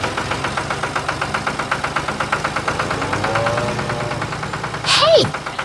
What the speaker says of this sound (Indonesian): Traktor merah menarik truk yang penuh jerami kuning.